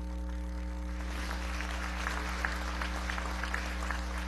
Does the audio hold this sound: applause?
yes